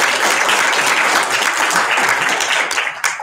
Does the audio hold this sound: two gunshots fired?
no